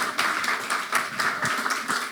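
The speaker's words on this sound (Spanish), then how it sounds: "Recibamos con un aplauso" Congregation applause welcoming the pastor at a Sunday church service: close, lively clapping from a group, steady and fairly loud across the moment with no talking.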